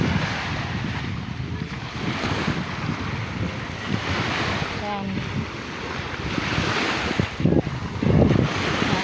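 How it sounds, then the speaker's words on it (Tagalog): Ocean waves wash beneath heavy wind gusting across the microphone, with a few faint voices breaking through briefly. "ang ganda po diba karagatan na ito"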